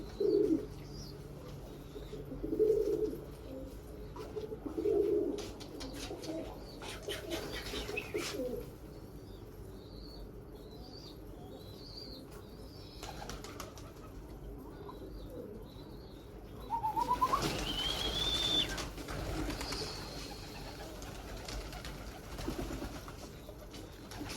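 A female Limonu pigeon, a white-headed Akbaş type, gives a few soft low coos early on amid bird chirps and a brief flutter of wings, with higher calls later in an outdoor setting.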